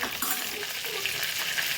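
Red chili powder hits hot ghee, butter and oil for pav bhaji, giving a steady, close, bright sizzle that crackles evenly throughout.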